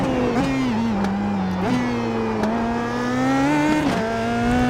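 PM18 race car in a video game at Sebring International, engine held at steady high revs with brief pitch dips at gear changes, a continuous close droning whine with no talk.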